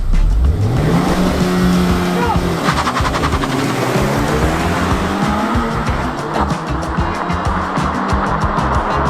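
A car engine revs hard and climbs through gears, loud and close, with tire noise and a roaring, accelerating drone throughout.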